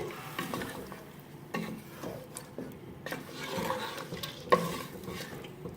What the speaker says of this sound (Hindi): अब इसको अच्छी तरह से मिक्स कर देंगे।